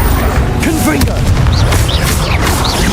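A fiery Confringo spell blast in Hogwarts Legacy lands as a loud, booming burst over a dense, continuous wash of game sound, with a voice faintly present.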